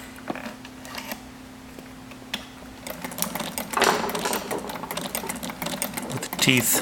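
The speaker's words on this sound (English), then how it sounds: "So it seems to be sewing correctly there." Sewing machine stitching after a bobbin-area adjustment, an irregular mechanical chatter growing louder and busier in the second half, with someone talking over it.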